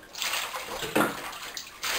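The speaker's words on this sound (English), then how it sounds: "Next, we're going to take the water and fully rinse him off" Water running and splashing in a bathtub as a cat is rinsed off, a steady wash of sloshing with a louder surge about halfway through and another near the end.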